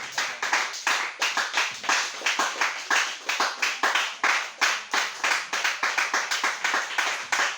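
A church congregation claps to acclaim Jesus, sharp, fairly close handclaps in a quick, steady rhythm with each clap distinct, continuing loudly for several seconds without speech.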